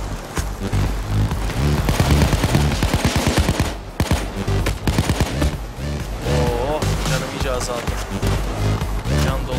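Rapid automatic gunfire from SWAT units in the heist game Payday 2, loud bursts of repeated shots with a dense rattling rhythm, layered with game effects and a player talking over it.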